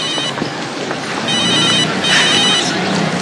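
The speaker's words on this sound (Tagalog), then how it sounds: "Cellphone!" A cellphone ringtone ringing loudly and continuously, a bright repeating electronic tone over a steady windy background.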